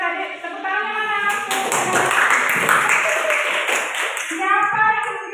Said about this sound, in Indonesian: itulah tadi tepuk tangan mana?